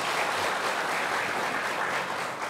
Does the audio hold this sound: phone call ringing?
no